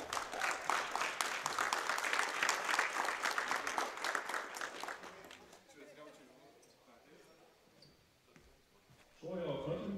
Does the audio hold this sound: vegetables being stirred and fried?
no